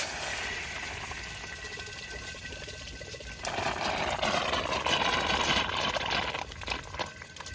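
Water rushing into an intercooler core during a pressure test, a steady hissing flow that grows louder and fuller partway through, with trapped air gurgling beneath it.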